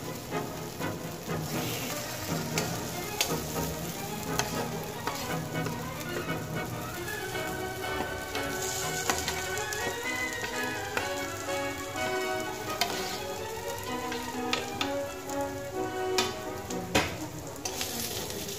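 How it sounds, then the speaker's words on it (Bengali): Long beans and pre-fried onions sizzle steadily in a hot pan for a side dish, giving a dense, continuous crackle with faint stirring scrapes throughout and no voices. "বাঁচিয়ে রাখা ভাজা পেঁয়াজগুলো আমি এর মধ্যে অ্যাড করে দিলাম। এবার আমি আরো কিছুক্ষণ ভেজে নেব।"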